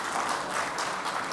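Steady applause from an audience greeting a chapter chairman at a financial seminar, a continuous dense wash of clapping with no voices, fairly faint and even throughout.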